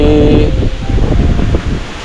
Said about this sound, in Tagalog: Dito, malakas na hangin. Parang may bagyo.